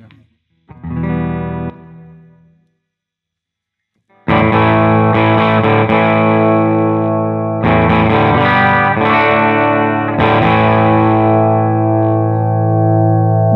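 An Epiphone Les Paul electric guitar played through an amp, a short chord followed by a pause, then loud sustained distorted chords ringing close with reverb.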